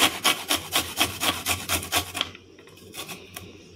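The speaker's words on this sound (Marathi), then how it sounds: "इथे 2 लसणाच्या कांद्या घेतलेल्या आहेत। तुम्ही अशा पद्धतीने इथे बघा असं बारीक करून किसून घेणार आहे।" Garlic cloves grated by hand into a fine paste, giving a quick run of rhythmic rasping strokes that stops partway, followed by a few softer scrapes.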